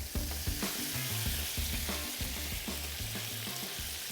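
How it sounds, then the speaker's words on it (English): Lemon juice hitting a hot pan of pan-fried halibut, a loud continuous sizzle with bubbling crackle and occasional stirring scrapes, close and alone. "That's our first deglazing of that pan right there, is with that lemon juice"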